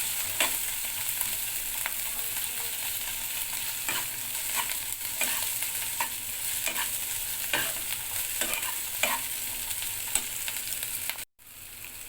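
Ginger, garlic and onion frying in oil for a home-style yogurt chicken curry, stirred steadily: a continuous loud sizzle close by, with repeated scraping strokes of the spoon across the pan and one brief pause near the end.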